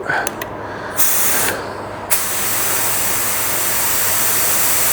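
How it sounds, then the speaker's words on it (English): A spray gun loaded with FC710 clear coat, set to about 19 psi with the fan pattern wide open and fed by a small compressor, gives a steady loud hiss in two short bursts and then one continuous blast. "Want to make sure our lid and our cap are on tight, and we're ready to spray."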